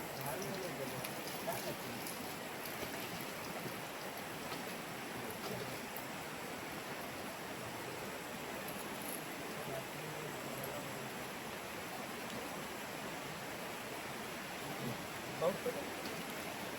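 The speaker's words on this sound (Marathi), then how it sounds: "पाऊस बघा आता किती जोरात आला आहे" Steady heavy rain hisses evenly throughout in Konkan, a dense continuous wash of noise with no breaks.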